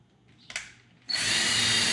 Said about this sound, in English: So I'm just using a self-tapping screw here, and I'm going to go into the tower support.